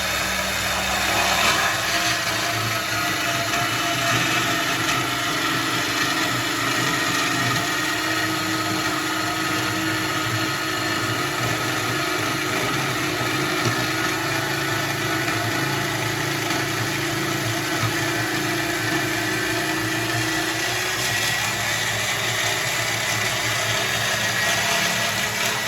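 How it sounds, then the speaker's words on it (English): A bandsaw slices through knife steel with a continuous loud, even whine and grinding hum throughout, no talking. "I generally cut that off with a bandsaw"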